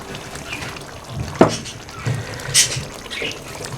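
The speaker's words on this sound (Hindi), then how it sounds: "अब लास्ट में इसमें मैं डालता हूँ ये 1 कप जो है भर के दूध का डाल दूँगा इसमें।" A cup of milk pours into a pot of palak gosht spinach and mutton curry, a soft liquid splash and trickle lasting a few seconds with light kitchen clatter.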